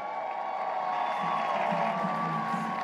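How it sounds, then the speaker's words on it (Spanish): A steady crowd at the Vuelta podium in Madrid cheers and applauds for cyclist Juan Ayuso, a continuous distant wash of ovation with a sustained tonal hum running through it. "El aplauso, no, la ovación de todos nosotros para Juan Ayuso."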